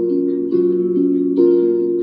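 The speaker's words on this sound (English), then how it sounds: "this is what it sounds like pitched up." A pitched-up guitar loop for a bedroom pop beat plays sustained, bright chords that shift every half second or so, clear and alone with no voices.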